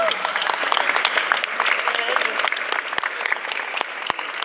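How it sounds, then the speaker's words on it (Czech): An audience claps for departing performers at a live event, close, crisp individual handclaps standing out within a lively, uneven burst of applause, with a few voices mixed in. "Potlesk pro ně."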